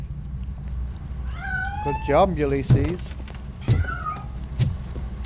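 In the video game Robocop Rogue City, a cat gives several drawn-out meows, some rising and wavering. Someone speaks briefly in between, with a low ambient hum underneath.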